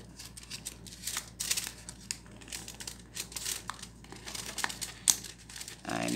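Banknotes being slowly pulled from a stapled factory pay envelope, giving soft paper crinkles and rustles in short bursts, close and quiet, with no talking.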